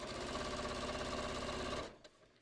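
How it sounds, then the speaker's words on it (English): A sewing machine stitches straight down a patio cushion cover with piping, a steady rapid mechanical whir running continuously close by before stopping abruptly near the end. "So you can see I'm just sewing straight down"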